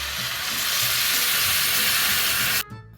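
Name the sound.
water poured into hot pan of fried rice and beef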